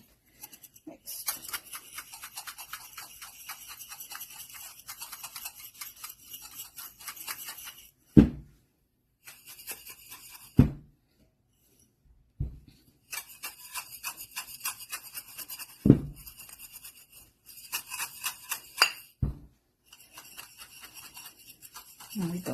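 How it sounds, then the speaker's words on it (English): Chili oil crunch ingredients with garlic and onion are shaken in a container, giving bursts of close, dry rattling and rustling broken by short pauses and a few sharp knocks, with no voices. "now I'm just gonna shake it up and get it evenly mixed"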